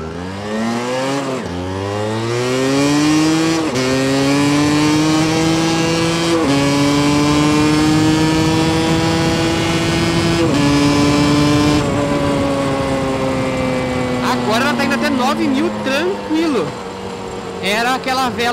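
A Yamaha DT two-stroke motorcycle engine revving in a workshop after warming up, held near and loud at rising then steady high revs for many seconds, then dropping back with a few sharp blips toward the end.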